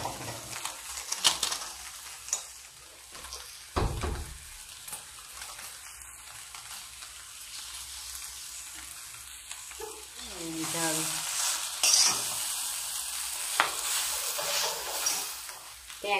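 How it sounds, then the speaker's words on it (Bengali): Chow mein frying in a pan hisses with a continuous sizzle as a utensil stirs and scrapes through the noodles in uneven bursts, close and moderately loud. "ভালো করে নাড়তে হবে।"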